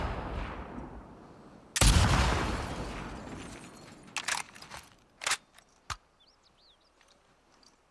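A loud gunshot goes off in The Last of Us Part 2, followed by a fading echo and a few sharp, lighter cracks and impacts in a quiet game scene.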